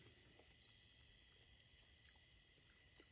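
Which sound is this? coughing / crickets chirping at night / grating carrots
crickets chirping at night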